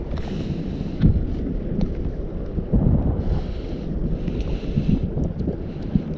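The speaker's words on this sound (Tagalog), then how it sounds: "Ay lamig, mahangin pa." Cold gusty wind blowing while fishing from a boat in Qatar, buffeting the microphone with low rumbling bursts, mixed with soft water lapping and occasional small knocks close by.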